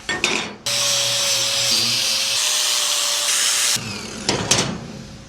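A power tool grinds a steel plate clean ahead of welding during a trailer tongue brace repair, a loud steady whine running about three seconds between shorter scraping bursts, with no one talking.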